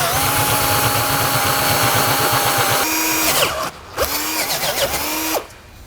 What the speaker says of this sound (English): So what I need to do is I need to drill these out.